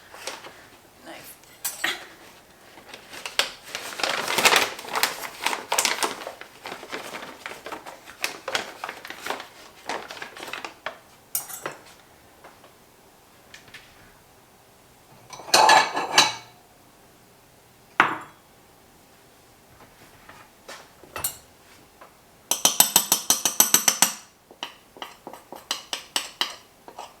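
A knife and dishes clatter and clink in short, scattered bursts with quiet gaps between them, close up and fairly faint, while shortbread is made in a kitchen.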